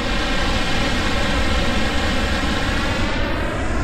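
Simulated jet aircraft engine from the TURBINE sound plugin at about 90% thrust, a loud, steady, dense roar with a whistling whine layered on top, unbroken throughout.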